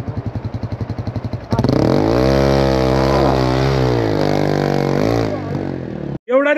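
Motorcycle engine on a mountain road trip, first idling with a rapid putter, then revved hard into a loud, sustained roar that rises and wavers in pitch before dropping off, with no clear speech.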